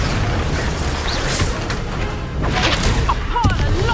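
A Confringo fire curse blast in the Hogwarts Legacy video game, a dense booming burst amid continuous noisy game sound and clutter filling the whole stretch.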